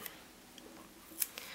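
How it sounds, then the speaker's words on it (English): Scissors snipping paper planner stickers, a few quiet, sharp crisp cuts with pauses between them in an otherwise still room. "Okay, scissors."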